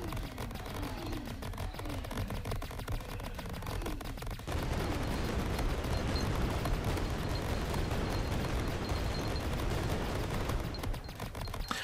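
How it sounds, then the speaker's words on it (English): Cluster bomb blasts in the game Greedland: a continuous dense roar of overlapping explosions and crackling bursts, loud throughout, thickening after the first few seconds with no pauses between detonations. "Oh, we got another cluster bomb."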